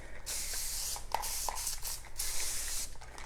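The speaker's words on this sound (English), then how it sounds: "I'm just going to gently spray it." A spray bottle mists tissue paper with a steady, soft hiss and a few faint taps, close up and uninterrupted by voices.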